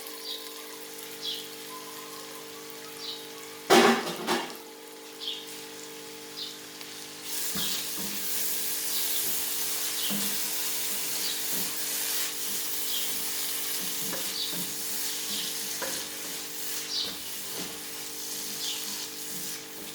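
Chopped tomatoes hit hot oil and spices in a pan for cabbage masala, starting with a sharp clatter, then a steady, close hiss of frying with faint stirring scrapes throughout.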